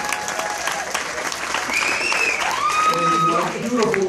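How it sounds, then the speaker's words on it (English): Comedy club audience applauds during a stand-up set, a steady wash of clapping under bright tonal sounds and voices, holding at an even level throughout. "give me a round of applause."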